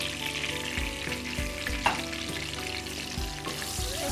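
Garlic and chopped onion sizzle steadily in a frying pan for a brown stew, with a broad hiss broken by a few sharp knocks as the pan is stirred.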